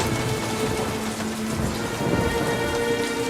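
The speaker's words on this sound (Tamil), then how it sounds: "மழை வேற விடாம அடிச்சிட்டு இருக்கு" Heavy rain pours steadily in a dense, constant roar, with deep rumbles of thunder rolling underneath, in a scene from a Tamil action film.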